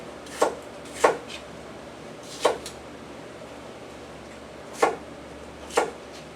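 A knife chops through ground beef and mushroom dinner ingredients on a cutting board, five sharp, separate cuts spaced irregularly, close and fairly loud over quiet room tone.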